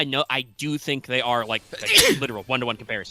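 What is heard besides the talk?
sneeze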